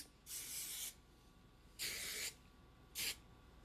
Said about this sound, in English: I'm going to spray it with just some of this, the Sheriff Medium Hold Hairspray.